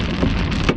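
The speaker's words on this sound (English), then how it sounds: "Oh yeah, that's Oh! big hail." Big hail pounds a car during a storm chase, a dense, loud, continuous rattle of hard impacts on the vehicle's body and roof with no talk.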